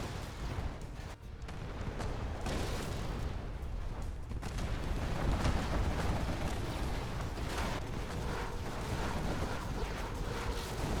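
A dense, continuous barrage of booming explosions and rumbling blasts from a Scud Storm missile strike in the video game Generals Evolution rolls on without pause, loud and chaotic like heavy bombardment.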